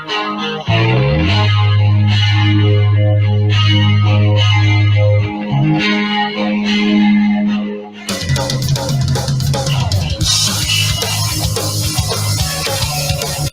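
Guitar intro of a song, distorted electric guitar with chorus effect playing sustained low notes and riffs, growing fuller and harder partway through.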